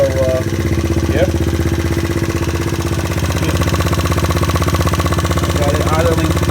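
GY6 scooter engine idling after carburetor tuning, a steady, close, loud mechanical drone with an even pulsing rhythm, with a voice speaking briefly over it.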